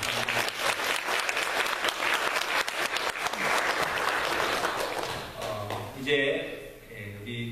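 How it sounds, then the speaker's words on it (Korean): Church congregation applauding together at an ordination service, a dense sustained clapping that fades out, then speech rises near the end. "우리 다 같이 축가의 박수 합시다"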